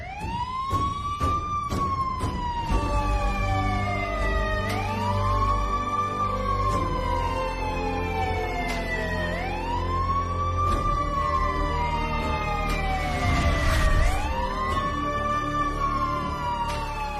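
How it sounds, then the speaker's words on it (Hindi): An ambulance siren wails in traffic, its rising and falling tone sweeping repeatedly and loudly over a steady road-noise bed, the horn-like pitch cycling about every four seconds as it approaches. "मैडम रॉन्ग साइड से एम्बुलेंस आ रही है, उसकी वजह से।"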